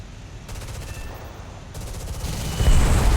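Bursts of F-86 jet machine gun fire in a combat flight video game, a few short rapid volleys over steady engine noise, growing louder and denser toward the end.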